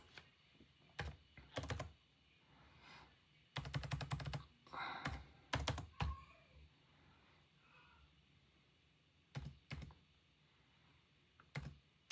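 Bursts of typing on a computer keyboard while entering card payment details online, with clustered key clicks separated by pauses, fairly close and clear, and no talking.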